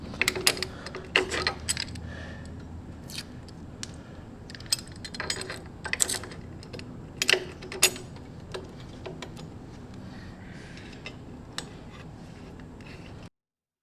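Bolts being tightened on a Hepco & Becker kickstand extender fitted to a Triumph Tiger 900 motorcycle, with sharp metallic clicks and ratcheting ticks in irregular bursts over a quiet background, close, no talking.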